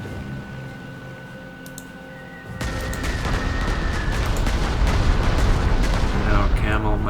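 Bombing explosions in the Panzer Corps 2 war strategy game erupt suddenly into a loud, dense rumble of blasts that keeps rolling for several seconds, following a quieter stretch with a voice speaking.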